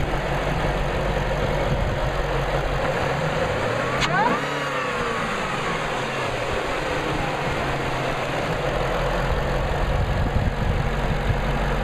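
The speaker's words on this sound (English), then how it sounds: "The best thing about the FPV GS is this all new supercharged 5 litre Coyote V8." Supercharged 5-litre Coyote V8 in an FPV GS running steadily with a loud, continuous engine drone and deep low rumble, holding an even note throughout with a brief sharp tick partway through.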